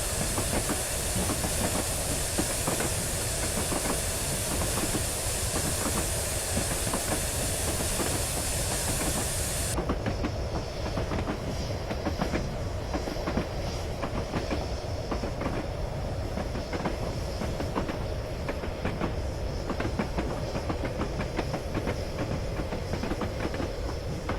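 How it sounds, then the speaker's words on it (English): The Flying Scotsman steam locomotive in Train Simulator 2015 on the Weardale and Teesdale line: a continuous loud rumble of the running engine, strong steam hiss that cuts off partway, then rhythmic chuffing and clicking wheels carrying on steadily. "Who produced the sounds for the Flying Scotsman?"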